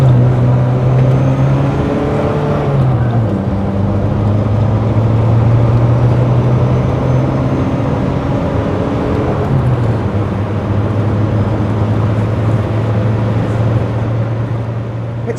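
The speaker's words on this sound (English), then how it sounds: "The sound you get, that lovely little high-pitched sound from the turbo as it winds up and spools the engine." Saab 900 Turbo 16S climbing a hill in second gear, a steady loud engine drone with rising and falling pitch as the turbo winds up, heard from inside the car throughout with no talking.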